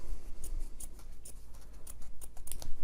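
Swan-shaped sewing scissors snipping a fabric jelly roll strip in half, a quick run of crisp, close snips and blade clicks in an uneven rhythm over a quiet room.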